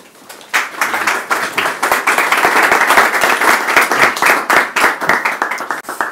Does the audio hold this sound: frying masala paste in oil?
no